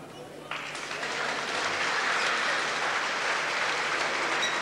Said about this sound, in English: Applause for Phil Thomas.